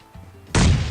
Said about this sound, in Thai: ระเบิดนำแล้วค่อยชาร์จครับ